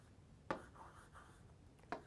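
A formula being written on a board during a Korean surveying lecture: two sharp taps of chalk or marker striking the surface about a second and a half apart, with faint stroke sounds between them, close and quiet.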